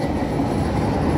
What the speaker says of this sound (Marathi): अंडरग्राऊंडमधून ही माझी ट्रेन आली.